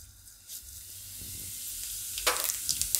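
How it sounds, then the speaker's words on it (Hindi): Cumin seeds drop into hot oil and crackle into a rising sizzle, with a sharp burst of spitting near the end, close and fairly quiet. "तेल अपना गर्म हो गया है तो इसमें हम पहले जीरा डालेंगे"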